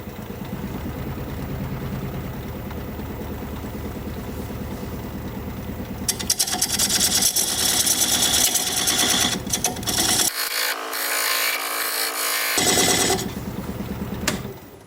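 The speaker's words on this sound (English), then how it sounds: "Now I'm just going to take this diamond point tool, square up the sides of the tenon." A diamond point tool cuts a tenon on a slowly turning wood lathe, with a low motor hum first and then a loud scraping, hissing cut that stops and restarts.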